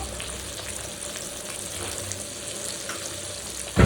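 Chopped onions, tomato and turmeric fry in a pan for a chicken and green banana curry, giving a constant dense sizzle heard close and steady throughout, with a brief knock at the very end.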